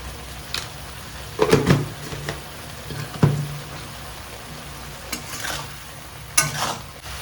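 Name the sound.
spice paste being sautéed and stirred in a pan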